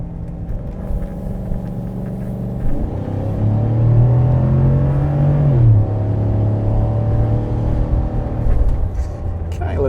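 A naturally aspirated V8 in a dual-cab ute revs up, its rising, droning rumble swelling loud at mid-clip before easing back to a steady run, heard from inside the cab.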